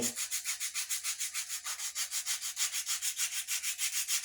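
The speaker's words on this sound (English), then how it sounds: "we are going to take the sandpaper, the detail sander" A detail sander with sandpaper rubs rhythmically against wood while a True Temper axe head is being hung, giving a close, steady series of rasping back-and-forth strokes with no talk.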